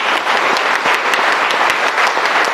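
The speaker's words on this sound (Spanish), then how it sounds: "Vamos a brindarle un fuerte aplauso al Señor." Loud, dense applause from a church congregation at Mass, continuous clapping filling the space evenly from start to finish.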